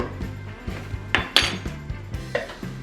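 A spoon stirring gingerbread biscuit ingredients in a bowl, with rhythmic clinks and knocks of utensil against the bowl repeating about every half second, close and distinct.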